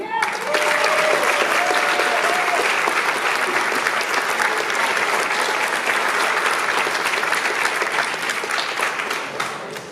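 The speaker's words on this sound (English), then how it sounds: "All right, and give a round of applause to Veda Sievert." A school honors assembly audience applauds a straight-A senior with a full, sustained round of clapping from a large crowd, loud and even throughout before tapering slightly at the end, with faint voices mixed in.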